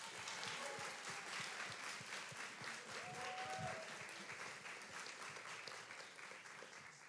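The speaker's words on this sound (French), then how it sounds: "Un tonnerre d'applaudissements pour Milo." Sustained audience applause fills a hall during an eloquence contest final, dense steady clapping with scattered louder claps, holding strong throughout and easing slightly at the end.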